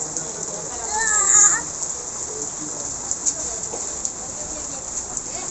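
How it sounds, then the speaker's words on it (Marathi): Rain falling on a beach during a fish auction at Malvan, a steady soft hiss of drops with some scattered voices and children early on, then continuous rainfall with occasional sharper drips. "अचानक पाऊस चालू झाला आणि आम्ही पळालो."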